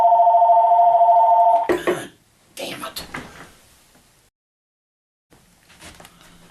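A telephone rings loudly and steadily for under two seconds, then cuts off, followed by clattering handling noises and a short voice in a quiet room.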